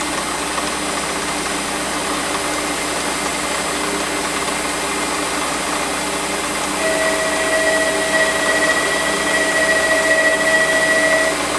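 A Warco metal lathe turns down a handle to a smaller diameter, giving a steady, loud motor drone and cutting noise throughout, with a thin whine rising near the end.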